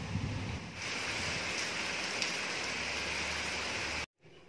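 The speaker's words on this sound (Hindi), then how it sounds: "एकदम मस्त बारिश हो रही है, मस्त बारिश हो रही है।" Steady rain falls in a broad, even hiss with a low rumble underneath, continuous for about four seconds before cutting off abruptly; no one speaks.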